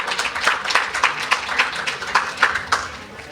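A single person clapping hands repeatedly in a public hearing room, a steady run of crisp, fairly loud claps with a little room echo, as people murmur in the background.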